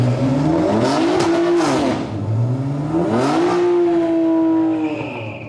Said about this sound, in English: Them BMWs sound offensive, honestly, ridiculous.